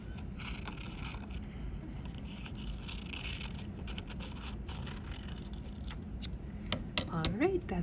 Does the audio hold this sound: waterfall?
no